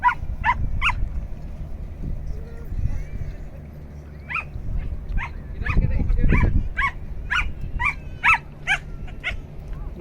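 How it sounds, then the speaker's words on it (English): An excited dog on a beach yaps repeatedly in quick sharp bursts, some clustered and some spaced out, over a low rumble of wind, with a voice faintly in the background. "One excited dog."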